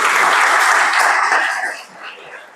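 A crowd clapping loudly and steadily, then the applause thins out and fades toward the end.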